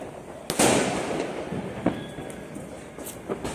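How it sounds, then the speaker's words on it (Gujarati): Fireworks bursting outdoors at night, with a sharp loud crack near the half-second mark followed by a rolling crackle, then smaller pops and bangs scattered through the rest, some nearer, some distant. "અત્યારે દારૂખાનું ફોડી રહ્યા છે."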